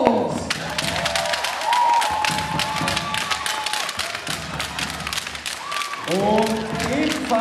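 Dense crowd applause and cheering for the under-18 champion at a youth basketball final day, loud and continuous throughout, with a public-address announcer talking over it and sustained whistle-like tones near the end.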